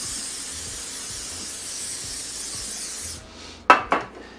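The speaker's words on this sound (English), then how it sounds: "I am going to spray a little bit of nonstick cooking spray." Nonstick cooking spray hissing from a can in a steady three-second burst, then stopping, followed by a few short clicks and knocks nearby.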